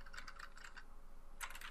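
Typing on a computer keyboard, close and fairly quiet: a quick run of key presses, a short pause, then another brief burst of keystrokes.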